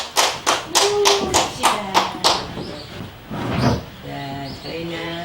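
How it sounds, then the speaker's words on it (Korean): An audience claps to welcome a harmonica group at a community concert, with several sharp claps in quick succession and a brief pause. A voice talks and hums over the end of the clapping, which is close and moderately loud. "힘찬 박수로 모시겠습니다."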